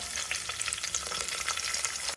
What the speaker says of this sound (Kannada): ಅದೆಲ್ಲ ಒಗ್ಗರಣೆ ಫ್ರೈ ಆದಮೇಲೆ ಹಸಿಮೆಣಸಿನ್ಕಾಯಿ